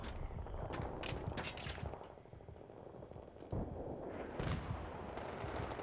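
Rapid gunfire in the Battlefield video game strikes a building, bursts of shots crackling loudly across the whole stretch with brief pauses and a heavier impact midway.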